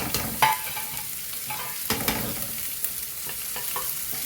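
Onions and masala fry in a pan for chicken kadai masala while a spoon stirs them: continuous sizzle broken by sharp scraping clicks of the utensil against the pan, close and fairly loud.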